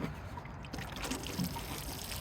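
Fertilized water trickles and pours steadily onto seedlings in a garden, a continuous close liquid dribble lasting throughout with no talking.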